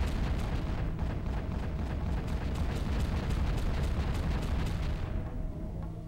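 A monorail-mounted gun fires in Armorines: Project S.W.A.R.M., a dense stream of rapid, booming blasts over a constant low rumble for several seconds before thinning out near the end.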